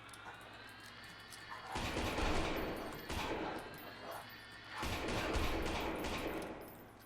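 Repeated bursts of gunfire in the horror video game Lost in Vivo, two loud volleys of rapid shots separated by a brief lull, with no talking.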